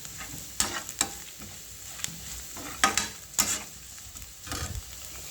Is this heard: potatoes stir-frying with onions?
yes